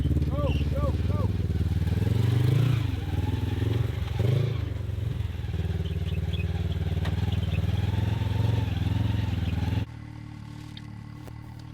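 A UTV engine revs and strains on a rocky trail, a loud buzzing drone rising and falling with throttle bursts, clattering and scraping over rocks, with voices talking over it before the sound drops off near the end.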